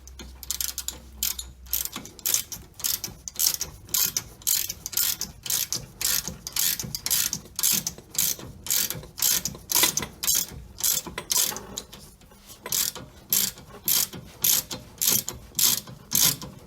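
A ratchet tightens a castle nut on a Jeep Cherokee ball joint, making a close, rapid run of clicking pawl strokes in steady bursts with short pauses, heard alone with no speech.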